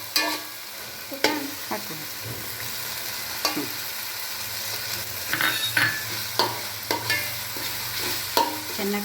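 Mushrooms frying with water, green chili, chopped mint and coriander, stirred often so the spatula scrapes and clinks against the pan over a steady close sizzle, with a brief spoken word.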